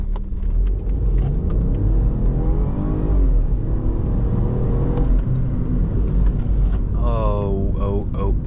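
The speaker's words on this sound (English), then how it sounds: "let's go from 0 to whatever speed we can get to" Mini Cooper 1.5 136HP (2017) pulling away hard from a standstill, engine note rising through the revs with a gear change, loud and close inside the cabin, with talk over it.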